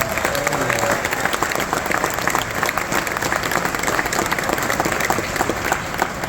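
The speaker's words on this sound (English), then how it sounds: "a nice round of applause for Captain Rob" A cruise-ship audience aboard Royal Caribbean's Star of the Seas gives a sustained round of applause for the captain during a veterans celebration, dense close clapping that holds steady throughout.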